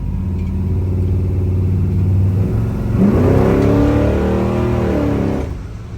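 An old 1966 Chevy Caprice engine rumbles steadily, then revs up loudly around the midpoint, pitch climbing and falling, before easing off at the end.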